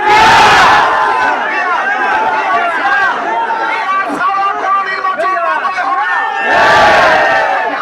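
A crowd at a street rally in Nalchity demanding proportional-representation elections, voices massed into a loud, continuous roar of chanting and shouting that swells at the start and again near the end.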